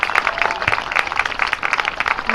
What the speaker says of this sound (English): Let's have one last round of applause for the seniors from Oliver Ames and Sharon High